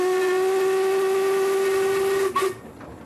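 A steam locomotive on a small heritage railway set up for a wedding sounds its whistle in one long, loud, steady tone that cuts off abruptly, leaving a faint hiss of steam.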